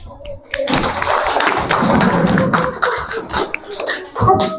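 A classroom group claps for group 2, a dense burst of close hand clapping that fades into scattered claps, with voices talking over it.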